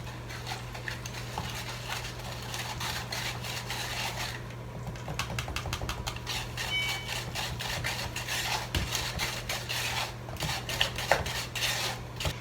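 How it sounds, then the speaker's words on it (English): A whisk clatters steadily against a mixing bowl as vanilla is beaten into bran muffin batter, quick rhythmic taps and scrapes running throughout over a low constant hum, with no talking. "And we just give it all a whisk together."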